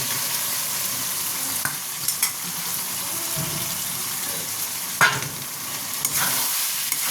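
Fried potatoes are sautéed into chicken keema in a pan, making a continuous moderate sizzle with scraping stir strokes and a couple of sharper clanks, and no voices.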